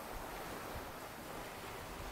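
Ocean surf rolls steadily in front of an oceanfront condo in Kaanapali, a continuous wash of waves with some wind, fairly faint and without any voices.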